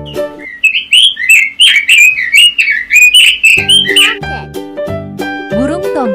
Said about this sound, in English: Robins. Burung robin.